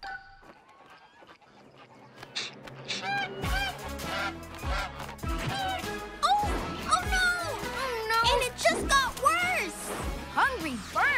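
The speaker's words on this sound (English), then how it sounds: "Hungry birds? They must have smelled the animal feed." Cartoon geese and fowl honking repeatedly in a noisy flock, loud overlapping calls with thuds and crashes, in a children's animated train series, with character voices around them.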